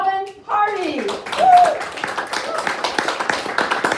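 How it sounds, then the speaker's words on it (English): Audience at a literary reading in a bar breaks into clapping after a brief voice, the scattered hand claps building into steady, moderately close applause. "I say hold your applause to the end and then like go crazy if you want."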